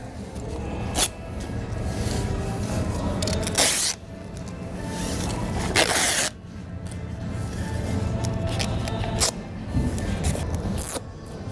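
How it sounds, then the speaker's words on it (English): Adhesive tape ripped off the roll in a few sharp pulls while taping a Kordon membrane overlap, each tearing screech close and loud, with rustling and pressing between the pulls. "And again, taping our overlap."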